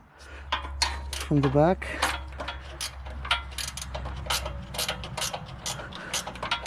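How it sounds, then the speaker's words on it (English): A wrench ratcheting on a bolt of a 2010 Nissan Rogue S AWD salvage SUV, giving rapid clicking bursts up close while someone talks, with a low hum underneath. "So I got a wrench on it"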